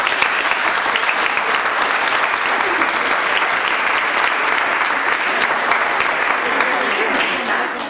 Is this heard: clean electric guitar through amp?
no